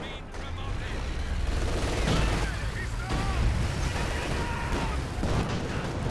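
British artillery barrage in Company of Heroes 2, rumbling booms and crackling gunfire rolling continuously through the battle, dense and sustained with a few shell whistles, under faint game noise.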